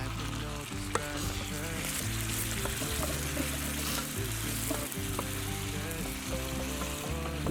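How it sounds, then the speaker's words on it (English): Chicken, tomatoes and pasta frying together in a pan, giving a steady, continuous sizzle that fills the whole stretch at moderate loudness with no voices. "Once all the chook's cooked, throw in some tomatoes and cook until softened."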